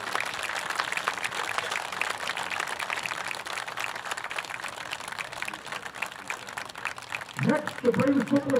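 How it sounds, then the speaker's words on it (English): Crowd applause rolls steadily for several seconds at a ceremony during an FDNY firefighters' football game, then a voice starts talking as the clapping fades. "Let's get another round of applause to the Ward family."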